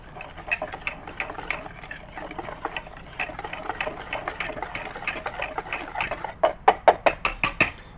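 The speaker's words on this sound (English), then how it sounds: "We're going to whisk this up." Dry biscuit ingredients, including Old Bay and sugar, being whisked in a bowl, giving a close rhythmic series of scraping clicks that speeds up and grows louder toward the end, with no talk.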